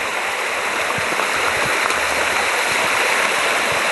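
Water trickles and rushes steadily along Dilemma Creek, a low-flowing stream giving an even, continuous hiss with no voices.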